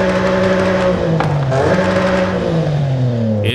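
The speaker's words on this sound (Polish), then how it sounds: "najpierw posłuchamy samochodu" A BMW M4 engine in the Forza Horizon 5 racing game, loud and close, droning at a steady pitch with a few gear-change shifts and a slowly falling tone toward the end.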